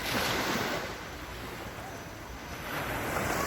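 Sea surf rolls and washes onto a sandy beach in a continuous broadband rush, swelling at the start and end, with some wind noise.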